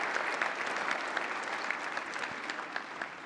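Applause from the audience at the White House Correspondents' Association dinner, a steady wash of many hands clapping at a moderate distance, even and unbroken for a few seconds with no voices on top.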